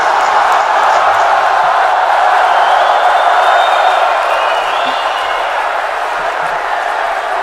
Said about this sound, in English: I can't start the live without my applause.